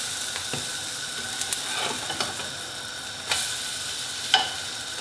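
Thai sweetcorn fritters sizzle softly in a pan with a low, steady crackle, broken by a few sharp clicks and scrapes as they are flipped.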